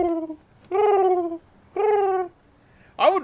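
A human voice imitates a pigeon cooing: three drawn-out, throaty coos with pauses between them, then a short rising-and-falling vocal sound at the end, near and clear against a quiet background.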